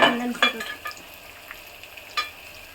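Garlic sizzles in a hot pan while a spoon scrapes and stirs it in a few sharp strokes, loudest at the start and then settling into a quieter fry, with no voices.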